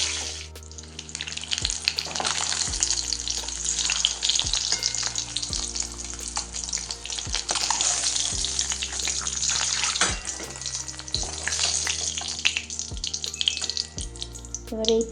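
Eggs coated in salt and turmeric fry in hot oil with a steady, close, crackling sizzle that runs throughout, over a low musical backing.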